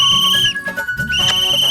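Sharp, shrill whistle blasts, a sustained high tone that breaks off briefly with a few choppy bursts before resuming, close and loud.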